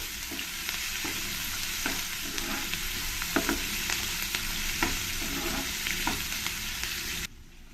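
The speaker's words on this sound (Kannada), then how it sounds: "ಈರುಳ್ಳಿ ಒಂದು ಸ್ವಲ್ಪ ಫ್ರೈ ಆಗಬೇಕು" Onion frying in a pan for Mysore-style vangibath gojju, a steady soft sizzle broken by repeated scraping stirs of a spoon, ending abruptly in near silence.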